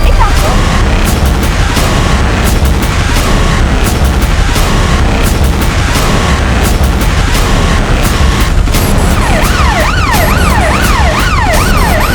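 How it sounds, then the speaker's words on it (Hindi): A loud ambulance siren wails continuously and close, its rising and falling tone joined near the end by a second sweeping siren, in a Crime Patrol crime drama scene. "4 एम्बुलेंस पीछे और आ रही है"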